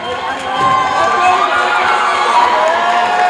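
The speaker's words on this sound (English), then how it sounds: "And the crowd is cheering for him" A basketball crowd at a girls' game cheers and shouts loudly during a half-court cash shot attempt, a dense, close mass of voices with children's yells mixed in, rising and holding steady.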